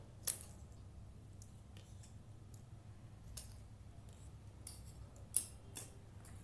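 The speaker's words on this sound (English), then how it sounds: "take your scissors and cut the edges properly" Quiet, crisp snips of scissors cutting colour paper, a handful of separate cuts at irregular intervals over a low background hum.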